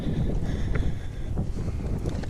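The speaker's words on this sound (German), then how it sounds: "Der Wind hat jetzt zwar ein bisschen zugenommen, aber der stört auch nicht groß." Wind roars across the microphone while riding past olive groves on Crete, a loud, constant buffeting rush with no break.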